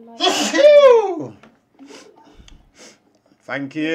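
A single loud, close sneeze bursts out sharply and trails off, followed by quiet murmuring and then a person talking.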